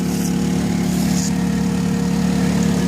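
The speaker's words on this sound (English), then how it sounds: "There's our pump in." A pump running on a mobile slurry tank, a loud, steady engine drone with a low throbbing hum, continuous and close, with no talking.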